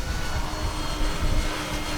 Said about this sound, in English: And this plane is a big old sweetheart to fly.